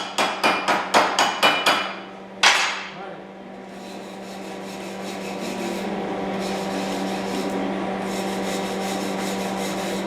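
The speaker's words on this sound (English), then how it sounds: "he's got to get his hammer. He's going to beat it now into submission." A hammer strikes a metal wood splitter push plate in a quick run of about eight sharp, ringing blows, then one heavy hit, followed by a steady grinding rasp.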